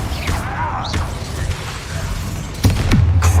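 Confringo spell explosions in Hogwarts Legacy: a whooshing magical cast followed by a heavy thudding blast, with a second louder impact and low rumble toward the end amid game effects.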